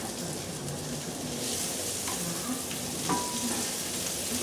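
Sweet peppers fry in a pan with a steady hiss and crackle, close and continuous, and faint stirring scrapes come through now and then.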